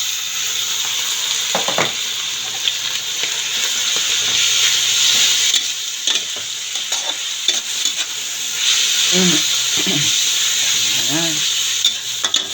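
Ground meat for picadillo sizzles steadily in a hot pan while a spoon scrapes and stirs it now and then, close up, with a woman's brief spoken remarks over the frying.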